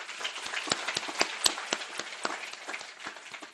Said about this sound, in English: I think we should give her a round of applause as well for this